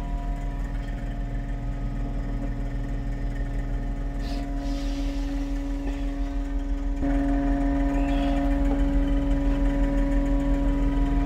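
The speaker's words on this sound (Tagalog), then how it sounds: "Kasi hydraulic kasi ito itong mga makina namin. Ginagamitan ng mga langis." The engine of a hydraulic machine runs continuously to warm its oil, a steady droning hum with faint clatter, rising slightly in level partway through.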